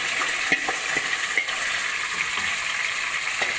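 Marinated chicken sizzles in leftover onion-frying oil, a dense hiss running the whole time with light, scattered knocks from stirring, close up and without speech.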